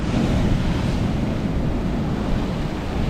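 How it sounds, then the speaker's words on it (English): Strong wind blowing over a sailboat at sea near the Exumas in the Bahamas, with waves washing steadily against the hull; a loud, continuous rushing roar and buffeting wind noise on the microphone, with no voices. "The wind has been a little strong."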